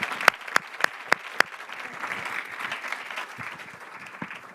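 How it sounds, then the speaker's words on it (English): Audience applause for panelists at the close of a climate-action panel discussion at an annual meeting, opening with a few loud, sharp claps and then settling into a steady wash of clapping from a large room. "please give a round of applause for our great panelists"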